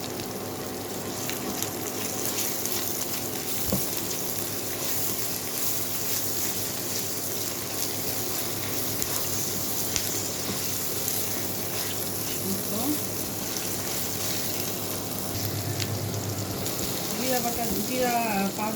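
Onions sizzle steadily in hot oil with ginger garlic paste, a continuous dense hiss and crackle with a stir near the end and a voice talking over it.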